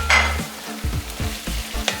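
Carrots go into a hot pan of oil for Russian-style plov, setting off a loud, steady sizzle while rhythmic stirring scrapes repeat several times up close.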